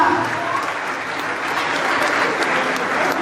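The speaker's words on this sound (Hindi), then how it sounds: "ताली बजा दो एक बार" A crowd at an outdoor cow-protection rally breaks into steady, dense clapping, loud and continuous with no pause, with a faint murmur of voices beneath it.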